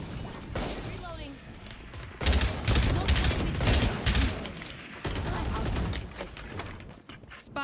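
Rapid volleys of missile launches and explosions burst from a Nintendo Switch video game, dense and loud, with booming thuds rolling under a player talking throughout.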